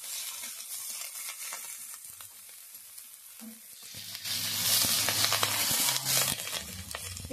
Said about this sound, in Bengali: এইভাবেই একটু নেড়ে চেড়ে আমি ভেজে নিচ্ছি